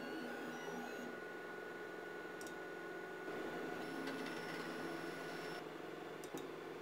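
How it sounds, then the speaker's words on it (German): A FLSUN QQ-S Pro delta 3D printer runs its auto-leveling routine, probing three points at the edges of the bed: a steady mechanical hum with a few faint, brief clicks and whirs spread across the clip. "Zuerst werden 3 Punkte an den Kanten des Druckers vermessen."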